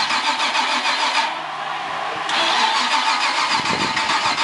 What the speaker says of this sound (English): Oh, y'all hear that heavy motor?